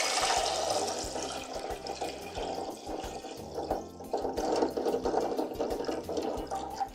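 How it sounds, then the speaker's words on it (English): Cold tap water runs steadily into a pot holding eggs for hard boiling, a continuous close splashing rush with no voices. "we're going to add enough cold water to cover the eggs by 1 inch"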